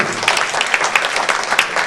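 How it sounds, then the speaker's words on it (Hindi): Loud, dense applause from an audience at a talk or ceremony in Lucknow, many hands clapping together in a steady roar for nearly two seconds with no voice over it. "और एक बार मैं चाहूंगा उनके लिए भी जोरदार तालियां हो जाए"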